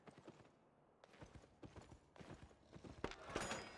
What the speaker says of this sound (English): Riding horse. Oh, let's go tier 5. Armored horse.